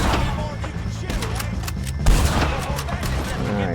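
Scattered gunfire from Red Dead Redemption 2 crackles in a running gunfight with O'Driscoll gang members, sharp reports over game music, one heavier thump near the middle, while a voice talks underneath.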